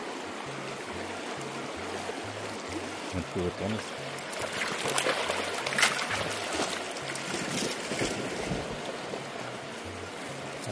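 Rushing floodwater flowing steadily nearby in a swollen stream after a night of rain in Atarjea, Guanajuato, a broad continuous wash, with a person talking briefly over it.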